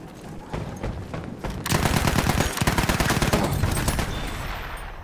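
Rapid machine gun fire in the World War I shooter Battlefield 1, long sustained bursts of close, loud rattling shots over general battlefield din.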